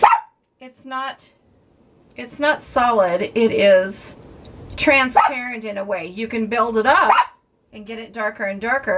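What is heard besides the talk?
dog barking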